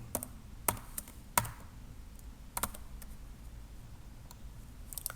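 Sparse keyboard keystrokes come from someone entering code on a computer, a few isolated clicks spread irregularly across the stretch, with quiet gaps between them and no voices.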